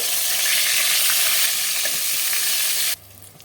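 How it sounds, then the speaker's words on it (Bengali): Eggplant slices frying in hot oil, a loud, dense, close-up sizzle that holds steady for about three seconds and then cuts off abruptly, leaving only a low hum. "বেগুনগুলোকে একটা একটা করে ভেজে নেব বেগুনগুলোকে একটু টিকিট করে ভেজে নেব"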